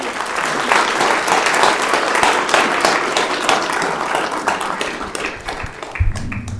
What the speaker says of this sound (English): I hope we keep the applause going